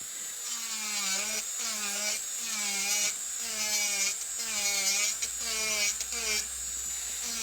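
An electric nail drill files acrylic nails with a close, high whine that dips in pitch in a regular rhythm as the bit presses and lifts against the nail.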